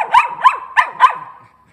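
A small disabled female dog lets out four quick, sharp barks in an even rhythm, close and fairly loud, before falling silent.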